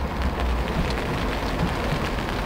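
Steady rain falling during a carp feeder-fishing session, a dense continuous hiss of drops pattering on surfaces around an umbrella, with no voices.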